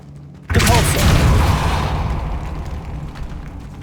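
A Depulso spell cast in Hogwarts Legacy lands as a sudden loud forceful blast, followed by a rumbling, crackling burst of debris that slowly fades over a few seconds.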